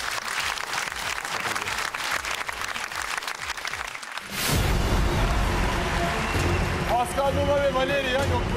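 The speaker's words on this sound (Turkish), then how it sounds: "Alkışlıyoruz." Studio audience applause following a professional dance performance on a television dance show, a dense roar of clapping that stops abruptly, then swells back louder alongside cheering and a raised voice.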